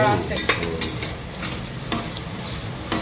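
Chili powder frying in oil while being stirred for biryani: a loud, close sizzle broken by several sharp scraping and clinking stirs, with no voices.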